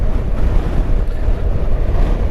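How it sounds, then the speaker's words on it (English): Strong wind roars and buffets steadily against the microphone while riding a Honda NC750X DCT motorcycle along a road, a loud, continuous low rumble with no break. "Very, very windy down here."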